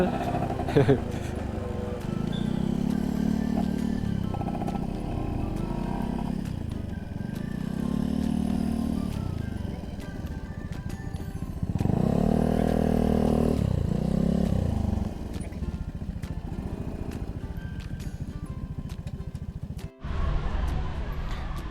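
A motorcycle riding toward parking near Kebun Raya Bedugul, its engine droning close and steady with repeated rises and falls as it shifts and revs, then easing off near the end, with wind rumble and no clear talk.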